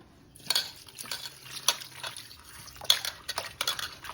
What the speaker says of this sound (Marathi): बोंबील धुवून घेते 2 पाण्यात.